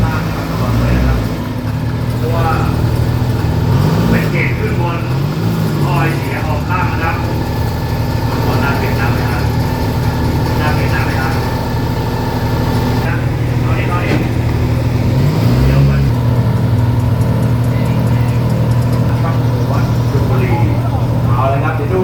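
An Isuzu diesel race car on a race-tuned map, revving on and off close by at an Open Diesel Unlimited event in Nakhon Si Thammarat, with a steady low engine drone throughout and people talking over it.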